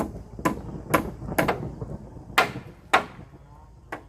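Hammer blows strike at a steady pace, seven sharp knocks with short pauses between them and one longer gap, loud and close in a quiet room.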